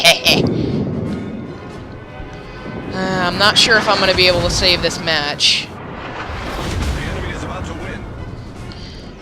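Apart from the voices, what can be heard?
naval gunfire in World of Warships video game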